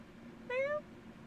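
A cat gives a single clear meow of about a third of a second, rising then falling, heard alone over a quiet room hum.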